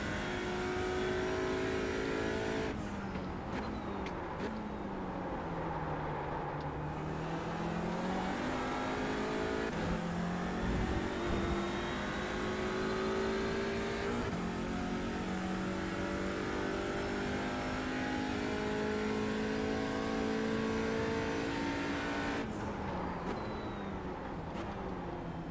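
Audi TCR race car engine lapping Hockenheim in iRacing, a continuous high engine drone that rises and falls through gear changes, with revs climbing, sharp drops on shifts, and braking dips, and no talking.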